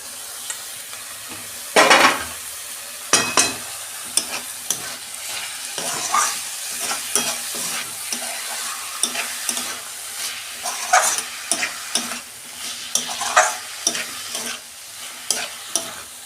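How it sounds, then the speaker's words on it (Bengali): Chopped banana flower drops into spice paste frying in oil for a prawn and banana flower curry, setting off a loud, steady sizzle with repeated close spatula scrapes and stirring knocks. "মশলাটা আমার কষানো হয়ে গেছে, তেল ছেড়ে গেছে, আমি এই যে মোচাটা দিয়ে দিচ্ছি"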